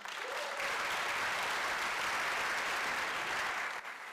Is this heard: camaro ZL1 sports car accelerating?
no